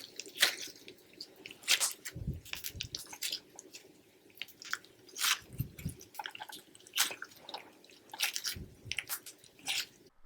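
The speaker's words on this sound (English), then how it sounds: "this slime is super fun and it's very crunchy" Crunchy unicorn skin slime squished by hand close up, giving repeated wet crackling pops and squelches in irregular bursts with short pauses between, with some deeper squishes standing out.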